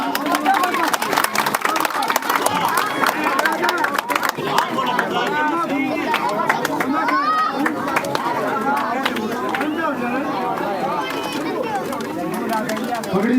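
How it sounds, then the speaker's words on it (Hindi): A village crowd at an open-air election rally keeps up a continuous dense murmur of chatter and scattered clapping, close and loud, with birds calling over it. "जोरदार तालियां।"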